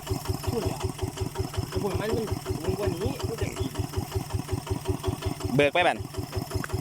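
A walking tractor engine runs steadily in a cassava field, its fast regular chugging pulses close and continuous, with people talking over it and a brief sharp squeal near the end.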